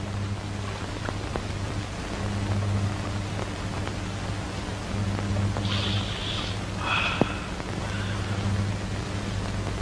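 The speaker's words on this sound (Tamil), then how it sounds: "வெளிய மழையா? மழைதேன்." Rain falls outside a home kitchen as an even, soft hiss over a low steady hum, with a couple of faint brief chirps partway through and no speech.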